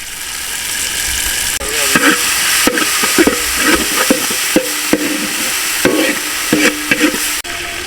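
Mutton intestine fries hard in a pan, a loud continuous sizzle broken by repeated sharp scrapes and clinks of a metal spatula stirring the pieces, with no talk.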